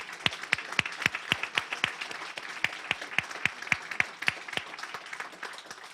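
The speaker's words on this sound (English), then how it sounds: "let's give another round of applause to Dr." Audience applause at a library dedication honoring Dr. Jenkins, a steady run of sharp, distinct claps from a modest crowd, fairly close and lasting throughout without any talking over it.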